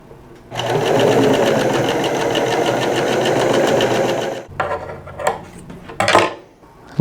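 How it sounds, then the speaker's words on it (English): Sewing machine running steadily for about four seconds as it stitches along the shorter inside seam of a T-shirt, a close, even mechanical chatter, then stopping and giving way to a few handling clatters and knocks. "I am just going to stitch along the shorter inside seam"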